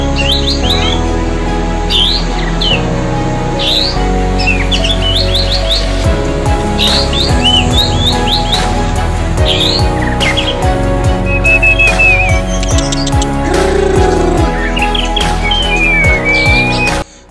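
A white-rumped shama sings loudly and close, pouring out varied whistles, rapid chirps and trills in continuous phrases over a busy background of other bird calls.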